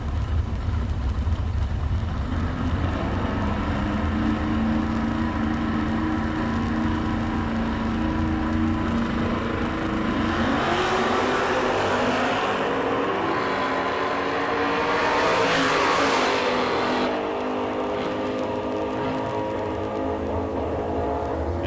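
Drag racing at a sportsman nationals meet, with cars including a 1967 Camaro launching, a loud continuous engine roar that swells into a harsher burst midway and then eases off, with no talking.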